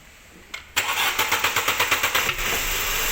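A car engine cranks with its camshaft sensor unplugged: a starter clicks, then a rapid, rhythmic chugging of about ten strokes runs steady and close before settling into a continuous low running hum, with no talking.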